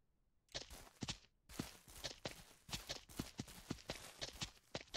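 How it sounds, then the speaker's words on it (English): A horse's hooves clip-clop steadily in the Ranch Simulator video game, a rapid, even run of crisp hoofbeats on hard ground, faint and alone, with no talk. "over here is my horse"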